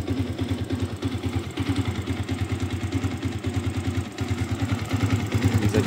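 A used motorcycle with a double starter idling close by, a steady rapid thumping putter with even firing pulses and slight clatter, running alone without voices.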